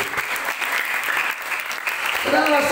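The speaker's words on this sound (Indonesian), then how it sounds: "Beri tepuk tangan yang terbaik." Steady applause from a crowd at an outdoor village revival gathering in Bokong-Taibenu, a dense wash of clapping throughout with a voice rising over it near the end.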